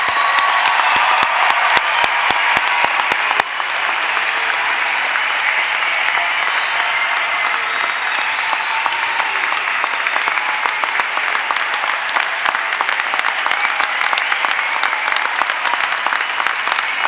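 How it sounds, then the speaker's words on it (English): Large commencement audience at the College of Saint Benedict applauding its 2018 graduates, a loud sustained roar of clapping that starts with sharp claps and holds evenly throughout. "Please join me in a round of applause for our"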